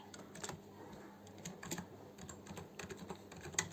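Quiet, steady keystrokes on a computer keyboard as Python code is entered in VS Code, with irregular clicks and short pauses between bursts and no talking.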